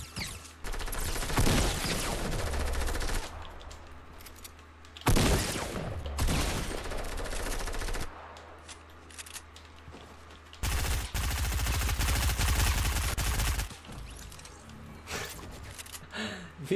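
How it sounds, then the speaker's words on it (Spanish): Rapid bursts of automatic gunfire from the video game FIFA 19 in loud volleys separated by short pauses, with some quieter stretches of scattered shots between them. "escucho más disparos."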